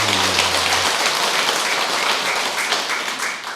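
A temple congregation at a Buddhist dharma service claps loudly for a monk, a dense wash of many hands that begins over a low hum and tapers slightly toward the end.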